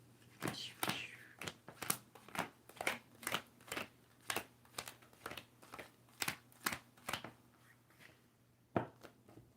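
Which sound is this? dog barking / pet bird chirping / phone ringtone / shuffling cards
shuffling cards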